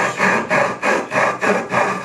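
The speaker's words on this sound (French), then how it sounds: "Donc là, on va scier là, bien jusqu'au milieu de la tranche." A hand saw rasps through wood in steady back-and-forth strokes, cutting to the middle of the edge of a board, about five even pushes and pulls, close and clear with no talking.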